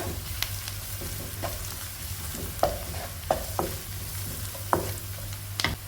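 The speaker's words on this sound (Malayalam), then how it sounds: "ഒരു അര ടീസ്പൂണ് ഗാർലിക് പൗഡർ അര ടീസ്പൂണ് ജിഞ്ചർ പൗഡർ ഇതൊന്ന് മൂപ്പിച്ചെടുക്കുക" Garlic powder and ginger powder fry in hot oil in a pan for egg tawa pulao: a steady close sizzle under a low hum, broken by sharp taps and scrapes of a spatula stirring, with no talking.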